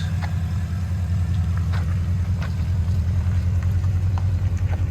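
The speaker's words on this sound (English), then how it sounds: "Porsche, full vibrant system with quad tips." A 2017 Porsche Cayenne S with a 4.8L V8 and full Vibrant exhaust, resonators and quad tips idles steadily, a deep, even low rumble holding close and constant with no revving.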